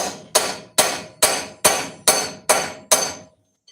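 A homemade chisel is hammered through 3/16 inch steel plate with seven sharp, evenly spaced metallic strikes, each ringing briefly before the next, close and alone.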